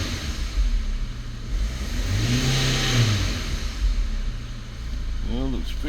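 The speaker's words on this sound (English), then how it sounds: "So let's give it a couple of revs and see what happens." Car engine revved a couple of times after a P0299 underboost repair, rising and falling pitch in steady sweeps over a constant idle rumble, with brief speech near the end.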